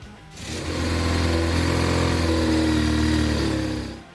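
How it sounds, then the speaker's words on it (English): A BMW Oilhead Boxer Twin motorcycle engine, in 1085 or 1130 cc form, runs steadily at a loud, close idle with a low throb. It holds nearly constant for several seconds before cutting off abruptly. "BMW Oilhead Boxer Twin."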